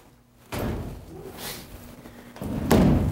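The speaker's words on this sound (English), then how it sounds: "close the doors" Doors of a turnout gear drying cabinet swing shut at a fire station, giving two dull thumps a couple of seconds apart over quiet room noise, the second heavier and closer.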